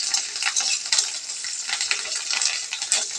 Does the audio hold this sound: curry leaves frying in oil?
yes